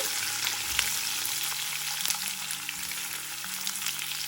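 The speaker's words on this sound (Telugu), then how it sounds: "ఇప్పుడు ఈ ఉల్లిపాయ ముక్కల్ని దీనిలో వేసుకోవాలి." Steady loud sizzling of onion slices frying in hot oil, a continuous crackle with occasional stirring clinks.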